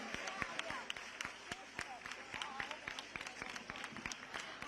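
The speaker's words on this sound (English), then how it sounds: "A loud round of applause for Shubhanshu, for India, and for the Axiom 4 mission." A crowd gives a loud round of applause for astronaut Shubhanshu Shukla and the Axiom 4 mission splashdown, with many dense, overlapping hand claps crackling steadily throughout.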